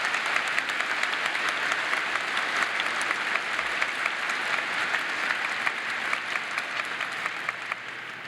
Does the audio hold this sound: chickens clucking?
no